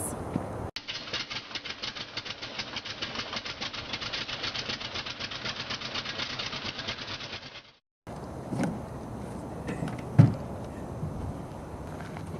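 A light aircraft engine comes in to land on a small airfield on a chilly day. It makes a steady buzzing drone for several seconds, then cuts off abruptly to quieter outdoor ambience broken by one brief thump.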